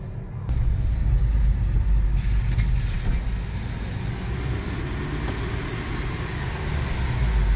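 Porsche Cayman GT4 CS on the Spa-Francorchamps circuit, its engine a steady, loud, close drone that holds through the whole stretch with slight swells, with no talk over it.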